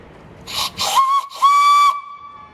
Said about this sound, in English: The owners of this Marshalls-built traction engine offered guests to blow its whistle.